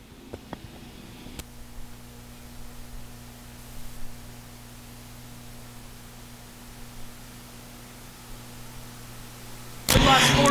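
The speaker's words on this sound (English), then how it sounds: "Picking up the pace, green flag. USRA stock cars back underway." USRA stock cars race under the green flag at a nationals event, heard as a steady, distant engine drone buried in hiss, with a louder burst at the end.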